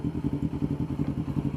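A Yamaha R25 motorcycle engine starting on the electric starter after a tune-up, giving a steady, rapid, pulsing mechanical chug that sounds close and fairly loud, with no talking over it.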